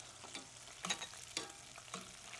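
Vidalia onion rings sizzle steadily in frying oil up close, broken by a few sharp crackles and stirring scrapes, with no voices.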